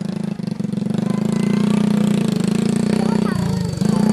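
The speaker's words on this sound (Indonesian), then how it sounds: "awas itu motor" A motorbike engine runs steadily and loud throughout, amid a house demolition, its low hum continuous with people shouting over it.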